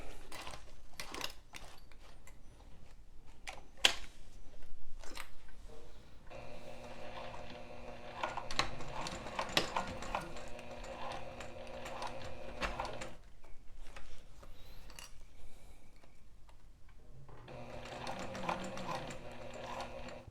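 A sewing machine stitches along zipper teeth at a 1/8-inch seam allowance and 4mm stitch length, running in steady bursts with short pauses between, quiet and close with no talk.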